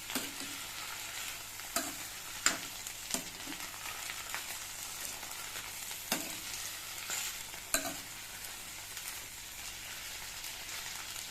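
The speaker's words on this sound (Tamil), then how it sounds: "கருவேப்பிலை, இஞ்சி, பச்சை மிளகாய் எல்லாத்தையும் போட்டு வதக்கிடும்." Curry leaves, ginger and green chilies sautéing in a pan give a steady close sizzle, with a few sharp scrapes and taps of a spoon stirring at irregular moments.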